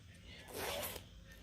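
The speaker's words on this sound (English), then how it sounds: "take it off from the bottom so it zips" A 10-inch separating zipper on a maxi skirt is pulled in one short, close rasping run, lasting under a second, with a soft voice in the background.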